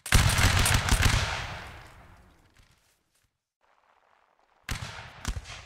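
Massed musket volley fire in a Napoleonic Wars line battle game: a dense crackling burst of many shots at once, decaying over two seconds into near silence, then a second ragged round of shots near the end.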